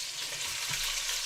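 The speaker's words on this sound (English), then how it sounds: "I can hear the chicken sizzling behind me" Chicken sizzling in a frying pan, a constant crackling hiss that stays steady and fairly loud with no voices.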